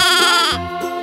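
A goat bleats loudly and close at a farm cafe, one wavering, nasal cry that drops in pitch partway through and trails off into a shorter follow-up bleat.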